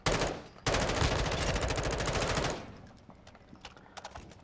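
Call of Duty gunfire: a loud, rapid automatic burst rattles nonstop for about two seconds after an opening shot, then gives way to a few scattered, quieter pops.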